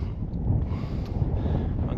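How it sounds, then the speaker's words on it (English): Wind buffets the microphone on a desert mountain saddle at Copper Bottom Pass, a low, gusty rumble with uneven surges and faint creaking. "a little windy up here"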